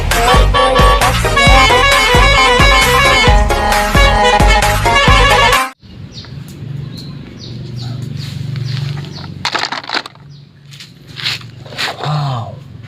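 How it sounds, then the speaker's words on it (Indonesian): A toy telolet bus horn plays a loud, bright melodic tune for about six seconds, then cuts off, leaving quieter handling clatter and small knocks. "ini bus telolet."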